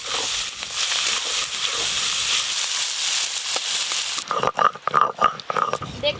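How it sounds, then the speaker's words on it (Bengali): Prawns frying in hot oil, a dense loud hissing sizzle for several seconds that then drops away into choppier, fainter bursts and clatter near the end. "এবার চিংড়ি মাছগুলো ভেজে নেব।"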